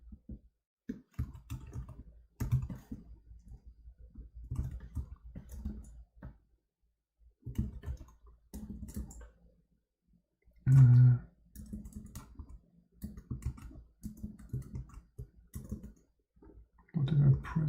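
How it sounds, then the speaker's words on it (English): Clicks and taps from typing on a computer keyboard with incorrectly labeled keys, coming in irregular bursts with pauses, fairly close and moderately loud. "I hate typing on a non-correctly labeled keyboard."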